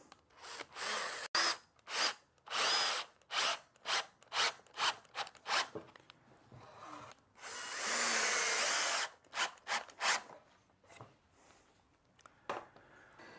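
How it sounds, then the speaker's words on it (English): Power drill driving screws into the wooden frame of a saddle stand, heard as a run of short, close bursts of whirring, then one longer sustained drive and a few more quick bursts, alone without talk. "And just for added strength, pop 1 screw through the ends."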